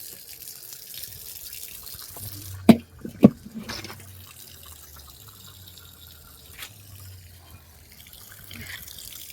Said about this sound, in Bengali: একটু কলটা চালিয়ে রাখলাম